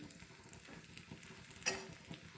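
Soft, steady sizzle of leftover bhaji (gram flour) batter cooking on a hot oiled griddle, fairly quiet, with one brief sharper crackle near the end.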